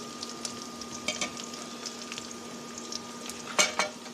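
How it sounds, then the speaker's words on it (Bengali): Onions and green chilies frying in a pan make a faint, soft sizzle with a steady low hum, punctuated by light clinks and scrapes of a utensil, louder near the end, no talking. "পেঁয়াজ মরিচটা ভেজে নিচ্ছি"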